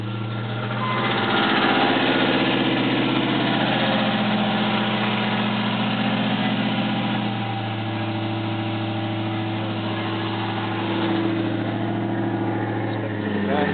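A lifted 1995 Land Rover Discovery with a 3.9L V8 starts and settles into a steady, somewhat rough idle, a continuous low exhaust drone and throb heard close up throughout.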